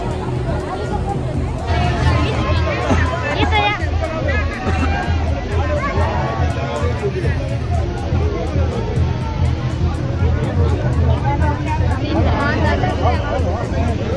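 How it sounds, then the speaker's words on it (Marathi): Dense Sunday crowd hubbub at a temple in Mathura: a continuous, close wash of overlapping voices and chatter that never lets up. "संडे असल्यामुळे आज लईच गर्दी इथं."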